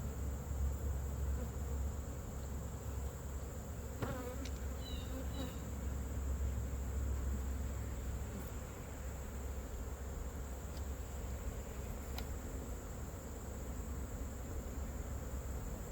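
Honeybees hum steadily around an open hive in a garden apiary, a constant close buzz that runs through the whole stretch with a few brief clicks and taps.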